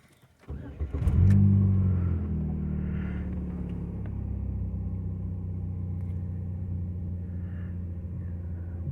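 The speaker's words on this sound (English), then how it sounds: "Once it warms back up, the idle drops down where it's supposed to be." The engine of a 2003 Saturn L200 with over 260,000 miles starts and settles into a steady, close, low idle rumble that runs on alone after a brief surge.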